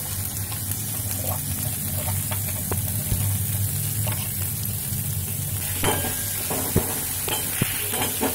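Finely chopped onion fries in oil with a steady sizzle, with occasional stirring clinks and scrapes standing out over the continuous crackle.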